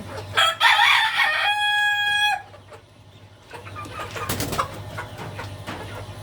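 Young backyard hens cluck nearby, and a rooster lets out one clear, loud crow partway through, followed by scattered clucking and farmyard noise.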